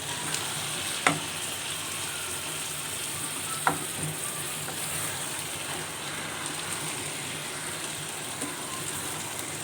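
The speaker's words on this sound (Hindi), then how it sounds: "अच्छी तरह से हम इसको मिक्स कर लेंगे" Masala, tomatoes and green chillies being mixed into a brinjal and potato curry in a hot pan, giving a continuous steady sizzle with two sharp utensil clinks near the start.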